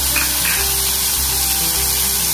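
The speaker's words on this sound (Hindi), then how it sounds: "मैं इसको फिश को फ्राई करूंगी।" Fish fries in oil over low heat, giving a steady soft sizzle and hiss that runs evenly throughout with no talking.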